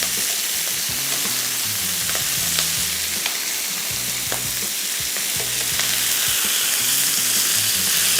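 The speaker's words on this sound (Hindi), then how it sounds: "इसको थोड़ा सा और फ्राई करेंगे, और ये चिकन को हमने हर थोड़ी देर बाद एक एक दफ़ा टर्न करते जाना है" Chicken frying in a pan while being turned for a gravy dish, giving a steady close sizzle with scraping stir and utensil clicks throughout, no talking.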